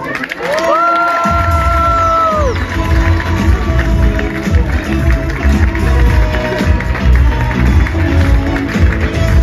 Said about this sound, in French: Je vais vous demander un tonnerre d'applaudissements pour accueillir les coachs.